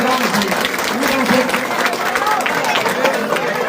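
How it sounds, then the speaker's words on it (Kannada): A large crowd applauds at a religious gathering at the Abbe Tumakur shrine, dense continuous clapping loud and close, with voices and crowd chatter mixed in underneath. "ಎಲ್ಲರೂ ಚಪ್ಪಾಳೆ"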